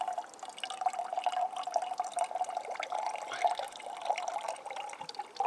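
Water trickles steadily into a container outdoors in the wilderness, making a continuous bubbling, gurgling stream with a constant pitch that stays close and fairly even.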